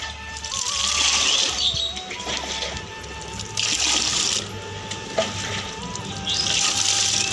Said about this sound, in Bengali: তারপরে আরো জল ঢুকাম